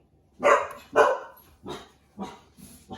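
A dog barks five times in an irregular series, the first two barks loudest and close by, the later ones softer, with no talk over them.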